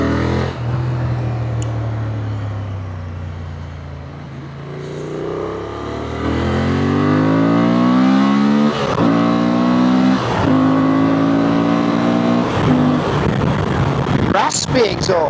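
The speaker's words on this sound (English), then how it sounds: "Raspy exhaust sound." A Honda Transalp 750 motorcycle engine drones low at night, then its raspy exhaust climbs through rising revs, with crackling and popping as it slows under engine braking, close and loud.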